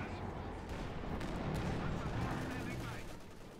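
Artillery shells pound a position in the WWII strategy game Company of Heroes 2, a dense, rumbling barrage of explosions and gunfire rolling on continuously, with a commentator's voice partly under it.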